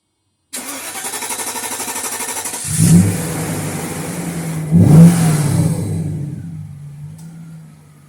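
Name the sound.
Mercedes-Benz 500SL engine starting, revving and idling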